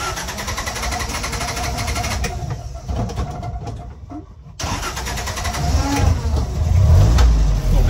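A 1960 Land Rover Series 2 88-inch petrol soft top, hot from driving, cranks briefly, dips to near silence, then fires and settles into a loud, close, rough idle that swells toward the end.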